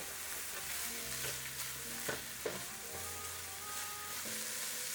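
Chopped onions and meat, with chorizo for a kidney bean stew, frying in a pan, giving a continuous close sizzle with occasional stirring scrapes and no talking.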